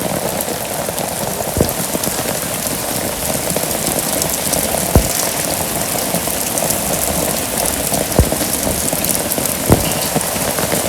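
Heavy rain falls steadily on surfaces in a Bangladeshi village, a dense continuous patter with a few sharper drips and a low engine-like rumble underneath.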